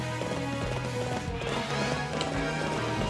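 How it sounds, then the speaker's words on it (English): Rapid clip-clop of galloping horse hooves in the video game Fire Emblem Warriors, loud and steady over a dense bed of game music and battle noise. "The cool hoof sounds of Frederick's horse."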